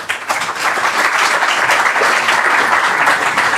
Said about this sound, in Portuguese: recibamos un aplauso